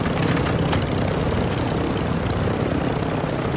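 Helicopter in a video game, a steady rotor and engine drone filling the whole stretch at close range, loud and continuous with a few brief sharper bursts near the start.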